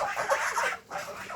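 Hens and ducks in a backyard farm cluck and murmur in a soft, nearby chatter with a brief pause partway through.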